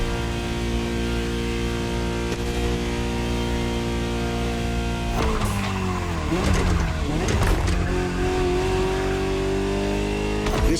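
A Ferrari GTO, the Gran Turismo Omologato derived from the 308 GTS, driving in The Crew Motorfest, its engine droning steadily and then revving up and down through gear changes, loud and close throughout.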